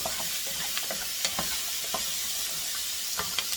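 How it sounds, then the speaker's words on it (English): Browned bits are scraped off the bottom of a sizzling pot, a steady hiss of frying with a scatter of light scraping and stirring clicks close up. "you want to scrape up all those bits of deliciousness on the bottom of the pot"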